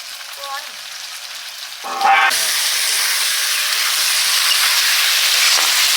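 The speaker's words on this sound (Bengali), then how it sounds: "বেগুনের তরকারি ফুটছে" Eggplant curry with potatoes sizzles in a pan on the stove, a moderate crackle that suddenly jumps into a loud, steady hiss after a couple of seconds and stays close and constant.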